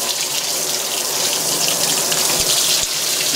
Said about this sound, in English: I'm just going to pop some water in there